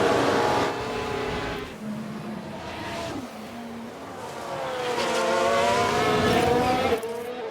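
An F1 car in the racing game F1 Manager 22 races along, engine whining and shifting pitch with a rising surge near the end and tyre noise from a lock-up, no talking.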